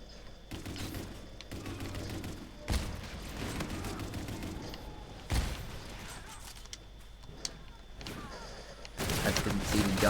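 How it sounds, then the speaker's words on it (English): Spacey sci-fi gunfire from Call of Duty: Infinite Warfare, set in space, with repeated rapid bursts and heavier blasts separated by brief gaps, loud and close over a humming game background. "the guns are slightly spacey, and that is because this game is actually in space"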